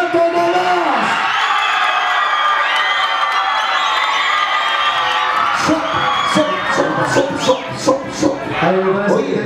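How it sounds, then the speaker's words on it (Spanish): A crowd cheers and applauds a competing couple from Santo Tomás at a dance contest, with whoops and shouting voices over steady clapping, loud and close. "¡Aplauso para la pareja de Santo Tomás!"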